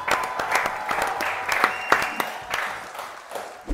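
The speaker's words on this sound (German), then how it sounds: "einen großen Applaus an meine beiden Gäste, Judith und Max" Studio audience applauds two guests, Judith and Max, on a song-guessing show: a few seconds of lively, fairly close clapping with sharp individual claps standing out, easing off toward the end.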